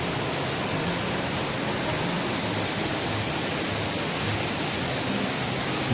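Rushing water from a river stream near a monsoon waterfall at Kalu, a dense, steady roar that holds constant and close throughout with no voices.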